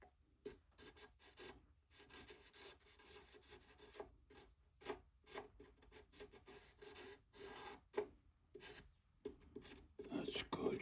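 A chisel scrapes the string slots of an OrangeWood Oliver guitar top in short, repeated rasping strokes, close and fairly quiet, with brief pauses between passes and a few sharper scrapes near the end.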